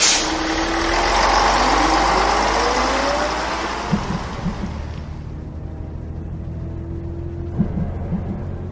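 A large bus engine in the 2D horror video game Enigmata rumbles and idles loudly, then settles as air hisses release; a few faint mechanical clicks follow, with no voices.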